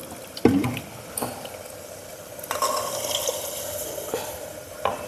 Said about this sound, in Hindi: इससे थोड़ा डालें 1 कप पानी